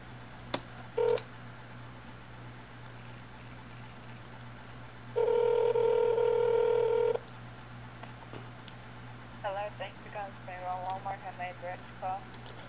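A phone dials a call to a Walmart store: a quick burst of keypad tones, then a steady two-second line tone, followed by faint voices talking at the end.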